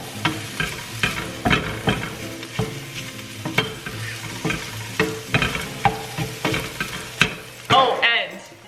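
An egg bowl cooks in a pan, with a steady sizzle beneath repeated clinks and scrapes of a utensil stirring against the pan, close and loud, without talk.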